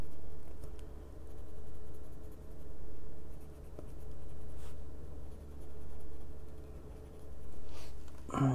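Colored pencil scratching across paper while filling in an adult coloring page, a soft, steady rhythmic stroking in repeated swells, close and unaccompanied by talk.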